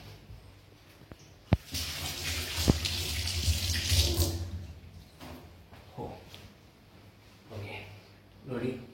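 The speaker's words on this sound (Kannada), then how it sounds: "ನೀರು ಹಾಕಿದ್ಮೇಲೆ ಮೊದಲು ಕೈ ವಾಶ್ ಮಾಡಬೇಕು." Tap water running into a sink for hand washing before cooking Maggi noodles, a steady splashing stream with a couple of sharp knocks and people talking over it.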